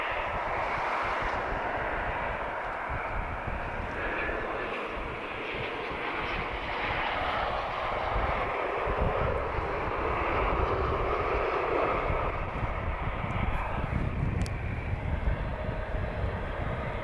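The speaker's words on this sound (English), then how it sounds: "We're looking at an Embraer E190 long range." Embraer E190 airliner arriving at Lisbon Airport at night, its engines a steady, broad roar that swells gradually as it comes closer, heard from a spotting position with no talk.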